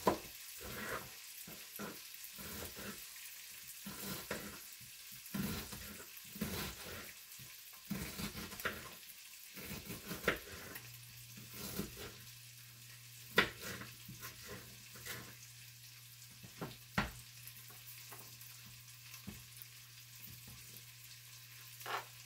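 Chopped medium-to-large onion sizzles steadily in three tablespoons of melted butter, a close, continuous frying hiss broken by intermittent stirring scrapes and clicks, with a low steady hum beneath from the second half onward.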